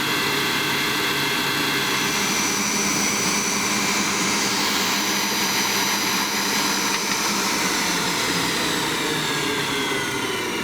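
An electric mixer whips egg whites and sugar into meringue for apricot-lavender macarons, giving a steady, loud, unbroken whir for the whole stretch with no talk over it.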